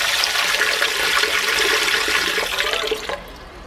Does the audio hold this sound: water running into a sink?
yes